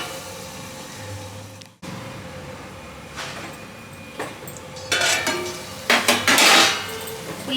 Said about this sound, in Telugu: ఇలా ఒకసారి కలుపుకొని ఉల్లిపాయల్ని మంచిగా మగ్గనివ్వాలి.